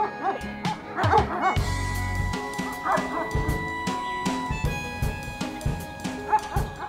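A livestock guardian dog protecting a herd barks repeatedly and fairly close, mixing deep woofs with higher yips and whimpers in an irregular string of bursts.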